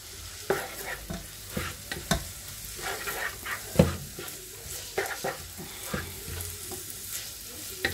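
Bolognese sauce ingredients brown in a pan, giving a steady soft sizzle broken by repeated scraping and clinking stirs, close and fairly quiet, with no talking.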